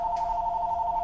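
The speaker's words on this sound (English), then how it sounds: "There's the phone." A telephone rings with a steady electronic tone, clear and sustained through the short moment, with a faint room background and no talking.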